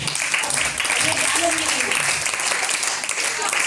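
Audience applause at a Louis Braille Day event in Hindi, a steady wash of clapping filling the whole stretch at moderate loudness, with faint voices mixed underneath.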